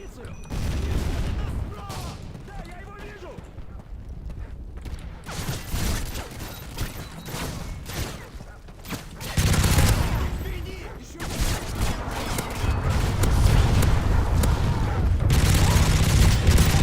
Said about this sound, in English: Okay, now it's time to be buying airstrikes every wave